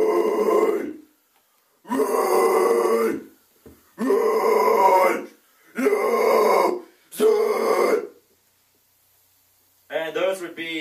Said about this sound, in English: kind of Devil Wears Prada-ish type scream